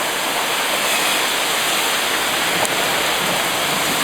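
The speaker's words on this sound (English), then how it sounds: "It's very heavy rain." Heavy rain mixed with brief hail pounds a balcony in Sydney during a thunderstorm, a loud, steady, dense roar that holds without a break from start to finish.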